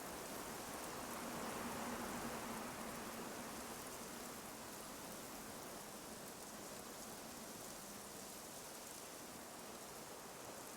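Steady rain falls through a forest in a video game, forming a dense, even hiss of raindrops that holds constant and fairly loud throughout with no voices.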